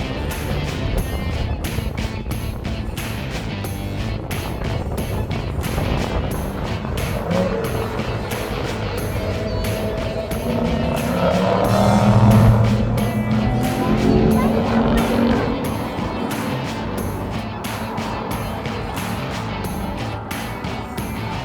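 Race car exiting a hairpin turn behind a bridge on a track, its engine roaring steadily and swelling as it accelerates away, with voices talking over the noise.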